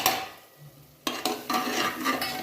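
Chili powder, turmeric, coriander powder and garam masala are stirred in a frying pan, a spoon scraping in quick strokes over a faint sizzle, close and fairly quiet, with no talking.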